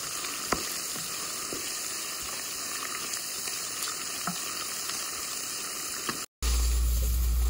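Chicken pieces sizzle steadily in hot oil as they fry for a pickle, a dense, continuous crackling hiss with a few sharper pops. It ends in a brief dropout and a burst of low rumble.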